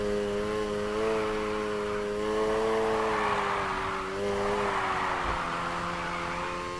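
A car in Need for Speed Heat accelerating into a drift, its engine holding a loud sustained roar with wavering pitch as the revs rise and dip, with no voices over it.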